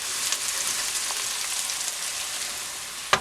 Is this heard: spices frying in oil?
yes